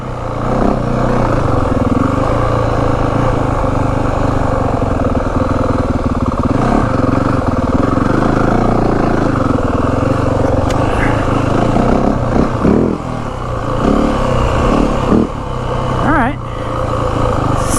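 Steady loud engine drone from a 2025 Yamaha WR450F dirt bike on the move, the pitch shifting as it changes gears, with wind rumble and occasional clatter throughout.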